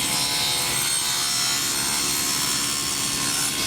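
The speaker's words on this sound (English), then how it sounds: "I'll square this shoulder off using the miter gauge on this table saw" A table saw cuts a wooden shoulder square using a miter gauge, with a scrap wood backer board behind the workpiece, producing a loud, steady, close-up whine and rasp of blade through wood that continues unbroken throughout.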